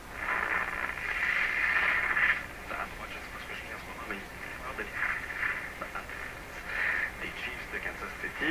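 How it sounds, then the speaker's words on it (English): Hissing AM radio static with warbling tones and bursts of interference from a Rogers Majestic RM503 farm radio, shifting as the dial is tuned, fairly quiet and continuous. "These are all sounds familiar to any AM radio here in my shop."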